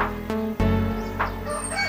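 A rooster crows loudly and close by in breeder pens, one drawn-out harmonic call lasting about two seconds, with no speech.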